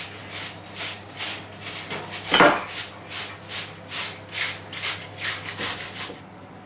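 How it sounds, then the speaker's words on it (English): Apples being grated by hand for strudel, a steady rhythmic rasping of repeated strokes against the grater, close and clear, with one louder scrape partway through. "Don't hesitate to grate the middle of the apple."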